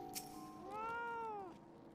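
A cat meows in the video game Final Fantasy XIV, one clear, drawn-out rising and falling meow after a short click, fairly quiet and alone.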